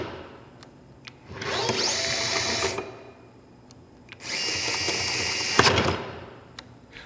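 A power tool drives a NySeal 2.0 M6 bolt to 58 newton meters, two loud sustained whirring bursts of about a second and a half each, separated by a pause, ending with a sharp click.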